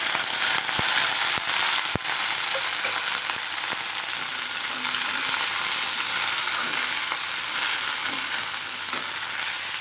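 Steady sizzling of okra sautéing in a hot pan, a constant bright hiss with a few sharp clinks of a utensil stirring.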